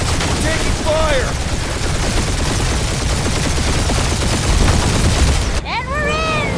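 Sustained, dense gunfire in the Guardians of the Galaxy action game (Fin Fang Foom fight), loud and continuous for several seconds, ending in a sharp cut to in-game character voices talking.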